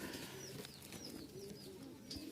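A Rajshahi Giribaz pigeon cooing softly in a loft, a few low rolling coos with faint chirps from other birds, quiet and close.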